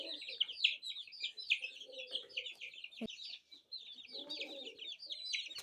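Broody hens and chicks cluck and chirp softly nearby in a busy, continuous chatter, with high peeping calls and a sharp knock partway through.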